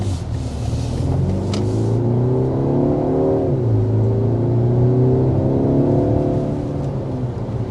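A 2026 BMW X1 SUV engine hums and builds as it accelerates in sport mode, pitch rising smoothly, dipping once at a shift, then climbing again under constant road rumble.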